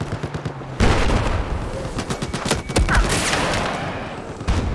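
Rapid bursts of automatic gunfire and loud shots from Battlefield 4 gameplay, close and punchy, with irregular volleys and brief gaps between them.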